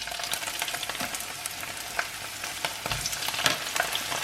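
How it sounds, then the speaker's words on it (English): Peas frying in a pan with a steady, close sizzle and occasional stirring scrapes, with no talk over it. "Fry them up a little bit."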